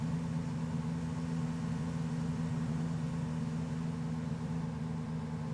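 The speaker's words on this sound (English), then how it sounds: "Wow, this engine is loud." A vehicle engine idles in a video game with a low, steady hum, quiet and unchanging, with no talking.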